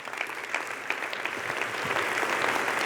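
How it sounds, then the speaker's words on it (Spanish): Congregation applause during a Spanish-language church sermon, continuous clapping that holds steady and grows slightly fuller toward the end. "Puedes darle un aplauso a Él"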